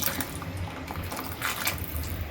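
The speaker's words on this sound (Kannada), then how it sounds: "ಇವಾಗ ಇರೋ ನೀರನ್ನ ಸೇರಿಸ್ಕೊಂಡ್ಬಿಡ್ತೀನಿ." Water poured into a cooking pot for masala rice, a steady close rushing and splashing that runs continuously without a break.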